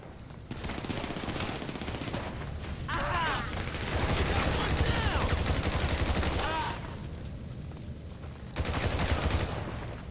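Gunfire in GTA 5 crackles in overlapping bursts amid game noise and mechanical clatter for most of the stretch, with voices chatting underneath.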